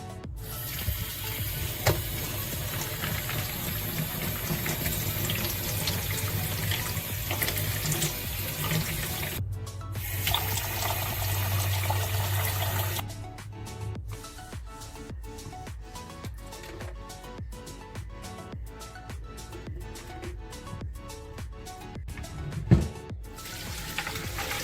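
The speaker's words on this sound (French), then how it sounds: "Je vais d'abord les rincer." Pigeon peas from a market in Nouméa are rinsed under a running kitchen tap, giving a steady broadband water rush with changing splashes. The sound turns choppier partway through as the stream hits the peas and container.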